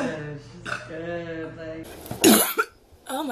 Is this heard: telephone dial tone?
no